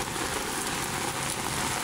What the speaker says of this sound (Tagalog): Sa hapon lang umuulan.